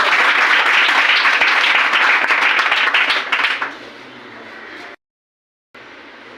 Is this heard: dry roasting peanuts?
no